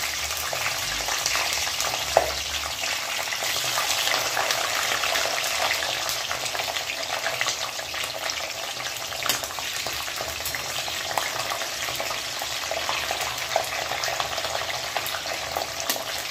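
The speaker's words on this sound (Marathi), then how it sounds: "आता आपल्याला सर्वात पहिले मिरची छान फ्राय करून घ्यायची" Chillies frying in oil in a pan for pav bhaji make a loud, constant crackling sizzle close by, with one sharp knock near the start and no speech.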